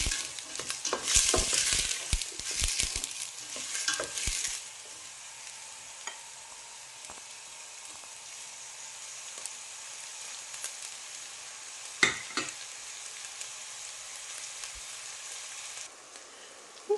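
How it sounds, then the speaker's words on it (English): Onions sautéed in hot oil and stirred gently. Brisk scraping and stirring comes first, then a quieter, steady sizzle continues with occasional faint clinks of the utensil. "we're just going to add the 2 onions and just stir that in very gently"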